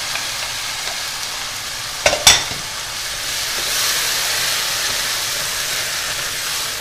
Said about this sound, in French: je vais rajouter tout de suite mes tomates